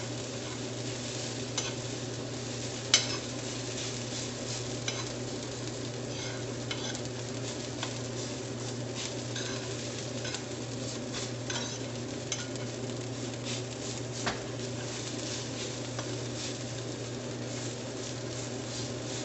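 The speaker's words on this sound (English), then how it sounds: "This right here is quinoa I'm putting in." Quinoa fried rice with vegetables and chickpeas stirred in a hot pan, giving a steady close sizzle under continuous scraping and stirring, with one sharper utensil clink early on, no talk.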